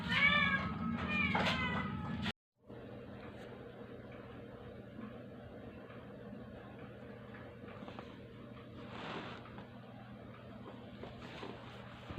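A Persian cat lets out a few close, bright meows at the start, after which only a quiet room remains with a low steady hum and faint scattered noises.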